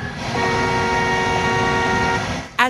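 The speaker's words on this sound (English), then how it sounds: "she honks and shows her handicap placard" A sustained, steady car horn blares at a Shell gas station, loud and continuous for over two seconds before cutting off, with no talk.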